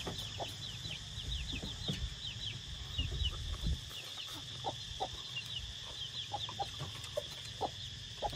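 Chickens clucking outdoors, with repeated short clucks and chirps over a continuous background hum, moderately near and fairly busy throughout.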